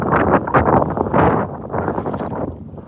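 Wind blowing outdoors while bass fishing, a steady buffeting rush striking the microphone throughout, loud and close with gusty swells and no speech.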